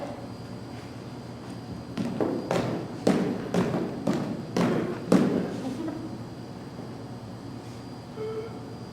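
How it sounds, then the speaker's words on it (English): A run of dull, heavy thumps lands in an irregular cluster, about seven or eight blows over a few seconds, close and fairly loud against a quiet room hum, then tails off. "Stop hitting yourself!"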